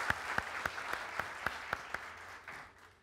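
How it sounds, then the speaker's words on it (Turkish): Audience applause at a Mevlid recitation competition in Turkey: a modest crowd clapping steadily, with a few sharp individual claps standing out, fading toward the end. "Sizi uğurluyoruz alkışlar eşliğinde."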